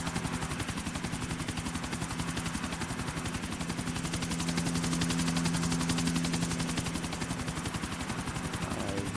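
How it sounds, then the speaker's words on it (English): A helicopter in the video game Grand Theft Auto: Episodes From Liberty City gives a steady, loud rotor chop with a continuous engine drone and a rapid pulsing beat throughout. "Helicopter."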